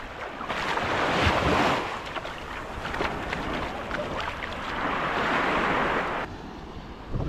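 Ocean waves washing around a tour boat near Phi Phi Island in the rain, a broad continuous roar of surf and wind rising and falling, loud and close.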